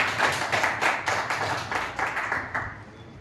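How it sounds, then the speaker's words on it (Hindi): A small group at a government higher secondary school ceremony in Mandla claps in a steady rhythm for a student receiving study materials. About nine even claps sound close and moderately loud, then fade at the end. "तालियां हो जाए दीपाली के लिए"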